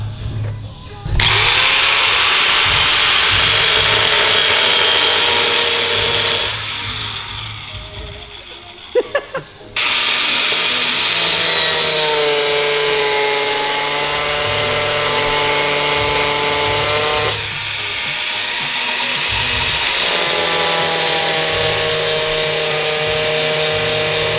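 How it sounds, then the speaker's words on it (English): A power grinder cuts out a broken weld on a Nissan 240SX, whining loudly and steadily with brief pauses and shifts in pitch as it bites into the metal, close to the microphone. "So we're going to uh, grind it out."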